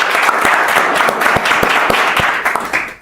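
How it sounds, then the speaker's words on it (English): A large audience at a gathering applauds the event convener with loud, dense clapping, a few sharp individual claps standing out, sustained until it fades quickly at the end. "a round of applause for our convener, please"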